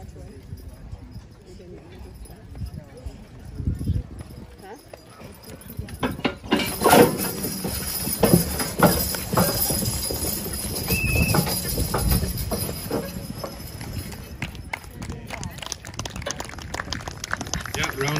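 Shod hooves clip-clop steadily on a hard surface as horses walk at a lightweight horse pull, with voices talking over a busy, echoing background.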